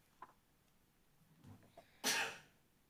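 A single loud sneeze bursts out in a meeting room during a city budget hearing, sharp and close after a stretch of quiet room murmur and small noises.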